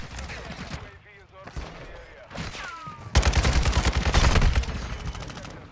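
Rapid video game gunfire from an AR rifle while going for headshots: bursts of sharp shots, then a dense, loud volley of fire, with a voice talking over parts of it.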